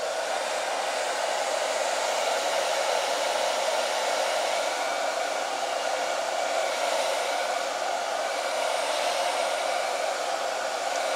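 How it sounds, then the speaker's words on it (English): A hair blow dryer runs continuously at close range while heating a dbrand adhesive device skin, a loud, steady airy whoosh with a constant motor hum and no voices. "Never leave the blow dryer in one spot too long, okay?"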